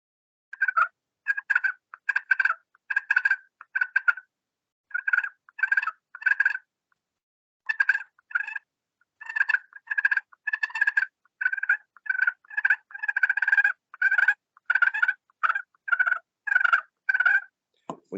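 Wild turkeys purring while content and feeding in the woods, a steady run of soft rolling trills repeating in quick clusters, close and clear against a silent background.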